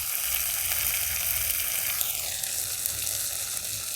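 Pointed gourd frying in a wok for a mung dal and potol dish, giving a steady, close, dense sizzle that holds evenly throughout with no voices.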